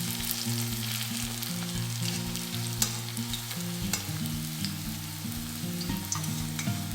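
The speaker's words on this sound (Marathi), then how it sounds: "असे दोन्ही बाजूनी व्यवस्थित तळून घ्यायचे आहे।" Cabbage vadas fry in hot oil with a steady, close crackling sizzle and scattered popping bubbles, continuous throughout with no voices.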